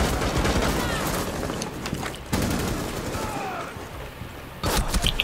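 Video game gunfire crackles in rapid bursts and loud booming shots over a busy, noisy background, close and dense throughout.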